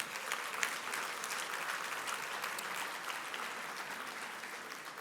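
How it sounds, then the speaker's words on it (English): Sustained, even applause from an awards ceremony audience honouring past winners of the BBB Torch Awards for Ethics, dense clapping filling the room steadily throughout. "Big round of applause for our past winners."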